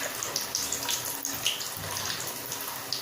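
Seven small balls of savory snack dough frying in very hot oil while being stirred, giving a continuous even hiss with faint bubbling, steady and close.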